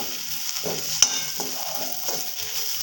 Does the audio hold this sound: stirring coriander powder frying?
yes